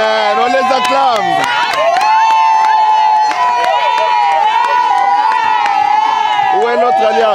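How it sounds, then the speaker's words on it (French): Wedding guests cheer and shout loudly for the newly married couple, a dense crowd roar with whoops and excited voices that runs through the whole clip. "On les acclame."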